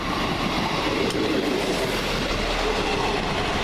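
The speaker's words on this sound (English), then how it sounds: "This is the 1036 South West train service from Southampton Central to Portsmouth and Southsea." A South Western passenger train, unit 158960 on the Southampton Central to Portsmouth and Southsea service, rumbles steadily past nearby at Hilsea, a continuous loud roar of wheels on rails with no pause.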